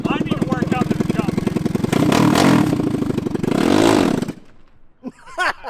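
A cheap mini jeep fitted with a racing engine, driving and revving hard, with a loud buzzing rasp that rises and falls and then cuts off near the end, followed by a few brief voices.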